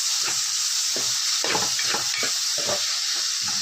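Loud, steady sizzling of tomatoes frying in a pan for chicken gravy, with repeated scraping stirs cutting through the hiss.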